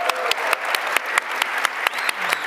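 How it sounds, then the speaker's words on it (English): Warm applause from an event audience at a finale, a close, full bed of clapping with individual sharp claps popping out at fairly regular intervals throughout. "please also give a very warm applause to our opposing team"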